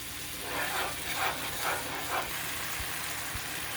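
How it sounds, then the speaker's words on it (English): Fresh tomato paste frying in a curry masala for fish curry over medium heat, a dense hissing sizzle that swells rhythmically several times as it is stirred. "Add your fresh tomato paste. Give this a good mix."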